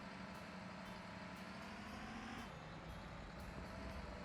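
An old truck in the game Workers & Resources: Soviet Republic drones on as a steady engine rumble, with its pitch shifting midway like a gear change, heard faint and continuous without talk.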